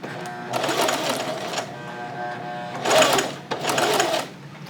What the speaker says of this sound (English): I'm just stitching like 1/8 or between 1/16 and 1/8 of an inch away from the folded edge here